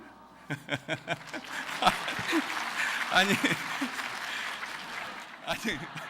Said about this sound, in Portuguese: Mas por que estão aplaudindo?